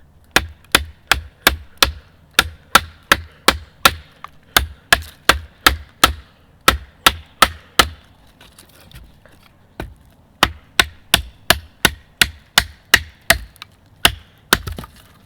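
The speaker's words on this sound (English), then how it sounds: "A normal size K-bar definitely has a decent chopping capability." A USMC K-bar camp knife chops a relatively thin piece of wood with steady, sharp, close-up strikes in two long runs, pausing briefly between them, with no talking.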